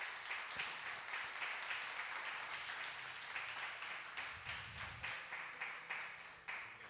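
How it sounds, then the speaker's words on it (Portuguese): A church congregation applauds together, a dense, faint wash of many hands clapping at once that continues steadily without pause, with some distant indistinct sounds mixed in underneath. "Eu ouvi uma salva de palmas bem forte para Jesus."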